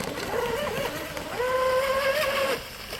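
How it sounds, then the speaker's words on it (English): A Deltaforce Vortex 34 model boat's small motor buzzes at a high pitch, revs up to a steady, louder whine, then drops back down. "Hard to keep up with the boat."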